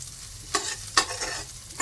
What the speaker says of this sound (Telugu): గీలో అయితే ఫ్రై చేసుకోవాలి అటు ఇటు.